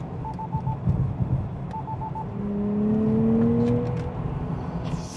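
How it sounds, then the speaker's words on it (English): A Nissan Z sports car engine rises in a smooth revving sweep as it accelerates, climbing steadily in pitch. Short electronic beeps sound before it. "listen to that arc, the rising, ascending, accelerating sound of the Nissan Z."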